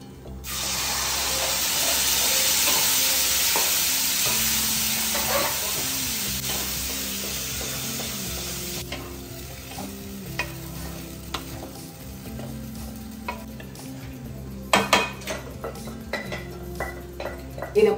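Dal frying with red chilli powder and garam masala, a loud spray-like sizzle that eases off, followed by close spoon clinks and scraping against the pot as it is stirred.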